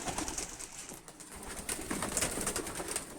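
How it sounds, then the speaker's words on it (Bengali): Home pigeons released during a 40 km pigeon toss, cooing and calling with wing flutters against a steady outdoor background, moderately close and continuous for the whole stretch. "এই যেগুলো বাসার কবুতর"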